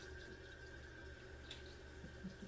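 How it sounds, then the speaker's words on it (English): Tap water runs steadily over hands rinsing under a faucet, a soft constant wash with faint splashes and drips near the end, no talking. "Rinse my hands off."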